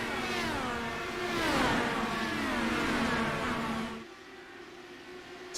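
Open-wheel IndyCar race car engines from the iRacing video game on the Nashville street circuit, several high-pitched engines whining and sweeping up and down through gear changes as cars pass close, then dropping to a quieter single drone near the end.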